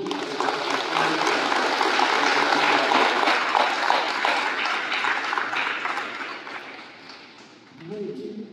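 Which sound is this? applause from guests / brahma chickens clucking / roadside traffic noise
applause from guests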